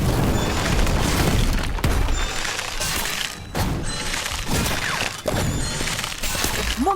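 Incendio fire spell cast in the Harry Potter Magic Awakened video game during a busy duel: loud booming, crashing bursts with sharp cracks, repeating over several seconds against a dense, continuous wash of battle effects.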